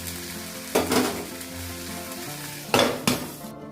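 Jujube pickle with turmeric and salt sizzles in a pan while a spoon stirs it, two bursts of close scraping and clattering against the pan rising over a continuous frying hiss.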